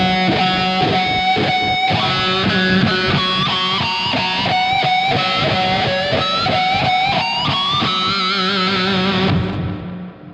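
Electric guitar pinch harmonics picked at different points along the string, a run of loud, distorted squealing notes with shifting pitches and echo, played alone and cut off sharply at the end.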